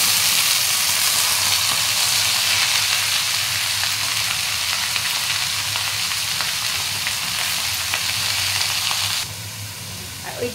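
Cabbage and potato with cumin seeds and bay leaf fry in an iron kadai, giving a loud, steady, dense sizzle that continues unbroken and drops slightly in level near the end.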